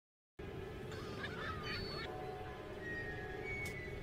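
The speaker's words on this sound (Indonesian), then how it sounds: "Kylie melihat seekor burung laut yang sedang mencari makan" Honking goose-like calls of a seabird foraging on a beach, over a steady, loud background rumble, with a few short calls in the first half and a thin tone later.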